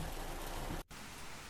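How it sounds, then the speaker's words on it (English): Rain starts to fall near the Barron River as a steady, soft hiss of drops, with a brief drop-out near the end of the short clip. "the rain was only just beginning"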